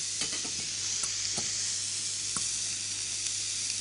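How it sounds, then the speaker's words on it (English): Herbs and onion stirred with a fork in a frying pan, a steady close sizzle with several sharp scraping clicks of metal on the pan spread through it, no voices. "you could get a fork and start stirring"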